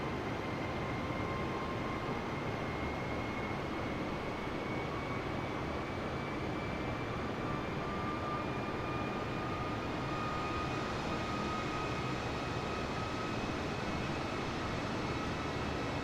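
Steady, loud aircraft engine drone in Microsoft Flight Simulator 2020 with the throttle eased back at cruise altitude, a continuous broadband roar with faint rising tonal whine, no pauses.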